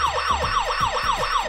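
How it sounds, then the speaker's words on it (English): An electronic siren from a radio-controlled toy fire truck wails in quick repeating up-and-down sweeps, bright and tinny, heard close with no talking. "it plays the little sirens and the lights on top flash."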